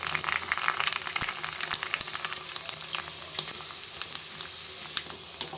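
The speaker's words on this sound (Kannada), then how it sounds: "ಸ್ವಲ್ಪ ಆಯಿಲ್ನಲ್ಲಿ ಡೀಪ್ ಫ್ರೈ ಮಾಡ್ಕೊಳ್ಳಿ." Puri deep frying in oil, a loud, dense, crackling sizzle close by that continues without pause, with no talking.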